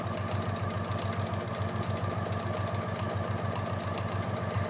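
A sewing machine does free motion stitching on a quilt, a close, steady rapid mechanical chatter with even rhythmic thumping and fine ticks throughout, no talking.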